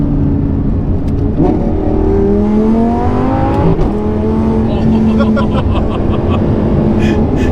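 A 2011 Lamborghini Gallardo Superleggera LP 570-4 engine revving loudly from inside the cabin, pitch climbing then dropping with each gear shift, a continuous near roar with a voice briefly talking over it.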